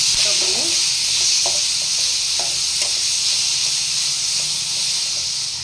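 Tomato with salt frying in a pan while making chicken chops gives a steady, close sizzle and hiss, with soft stirring scrapes now and then throughout.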